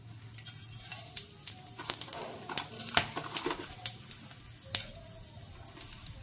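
Cumin, a small piece of cinnamon and cloves sizzle in hot oil in a pan, a close crackling fry broken by sharp pops and spatters at irregular intervals.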